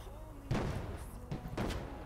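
Gunfire in a Lego City police video game: three sharp shots or bangs sound over a steady game background, with a pause after the first one.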